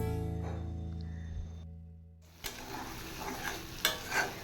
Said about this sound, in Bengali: মশলার সাথে কাঁচা আমগুলো একটু ভাজা ভাজা করে নেব।